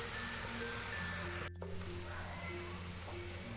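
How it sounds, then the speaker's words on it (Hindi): Goat brain (maghaz) frying in a pan until golden, a steady soft sizzle throughout with a brief dropout midway and faint clinks over it. "अब हम इसको गोल्डन फ्राई होने तक इसको फ्राई करेंगे"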